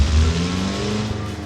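A video game sleeper Honda Civic engine holds a high, steady idle, a sustained droning hum with a slight dip partway through, heard alone and close.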